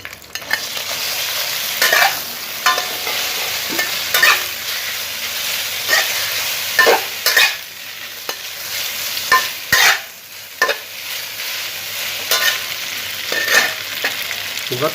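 Beef and spaghetti noodles stir-fried for pad see ew, a loud continuous sizzle broken by repeated sharp scraping and tossing strokes of a utensil in the pan, close and without talk.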